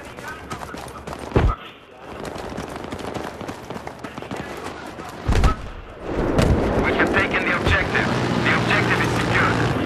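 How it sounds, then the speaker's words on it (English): Rumbling gunfire and enemy helicopter noise from a Battlefield game, with sharp bursts and a sustained engine drone, under occasional talking. "Enemy helicopters!"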